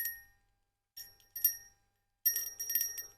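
Small hand bell struck in short separate rings, three brief bright chimes with gaps, then a longer sustained ringing passage, clear and close with no talk.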